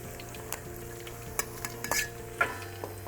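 Turkey egg foo young patties fry in a pan with a soft continuous sizzle, broken by a few sharp spatula scrapes and clinks against the metal.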